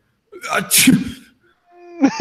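A person's voice imitating a sneeze: a sharp indrawn gasp building into an exaggerated burst, then a short vocal flourish after a pause.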